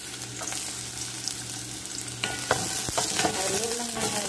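Garlic being stir-fried for adobong kangkong, a steady close sizzle with scraping spatula strokes and clinks of metal that grow busier and louder partway through, no voices.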